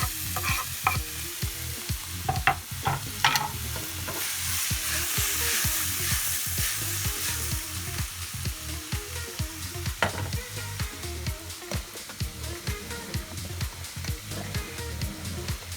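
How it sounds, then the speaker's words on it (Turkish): Close, steady sizzling of mushrooms frying in a pan for mushroom soup, with repeated scraping and clacking of a utensil stirring them, no voices. "Mantarlarımızı karıştırıyoruz."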